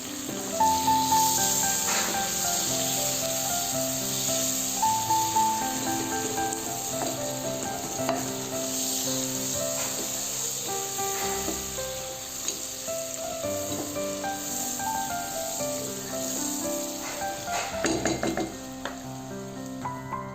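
Onion and garlic fry in hot oil with a loud, continuous sizzling hiss and occasional stirring clinks, close up, while music plays underneath.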